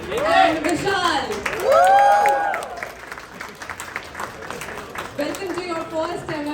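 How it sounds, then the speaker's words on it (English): Audience applause at a community mixer welcoming three new members at a reinvent event, a loud burst of clapping that swells and then fades under a speaker's voice. "Can we have a huge round of applause for INR, Ilan, and Vishal?"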